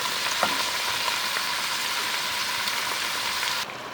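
Peppers sautéing in oil in a pan give a continuous close sizzle with a couple of faint stirring taps, steady and alone, cutting off abruptly near the end.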